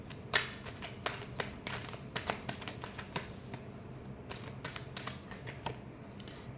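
Tarot cards being shuffled give off a quiet run of crisp slaps and flicks that come in an uneven rhythm, close to the listener, with no talking.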